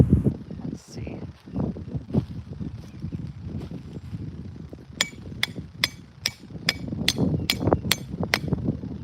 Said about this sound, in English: So, I need to hammer these down